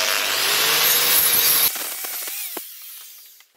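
Power tool grinding or sanding a metal surface clean before plug welding, a loud harsh abrasive whir close by that winds down after under two seconds, then fades with a few scrapes and knocks.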